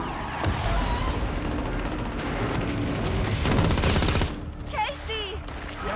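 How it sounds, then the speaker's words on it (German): Loud, dense gunfire in a tense dramatic scene, rapid shots crowding together for about four seconds before cutting off, followed by a quieter stretch with a voice speaking. "Hier hat jemand geschossen."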